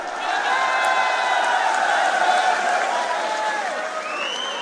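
Crowd at a political rally in Ujjain, Madhya Pradesh, clapping and cheering in a sustained, dense burst of applause with some whoops, fairly close and loud throughout.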